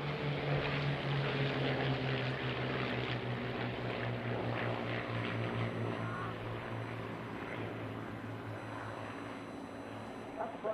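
A propeller warbird fighter flies at the Bournemouth Air Festival, its engine drone a loud, continuous roar holding steady throughout with a slowly shifting pitch, under an announcer's commentary.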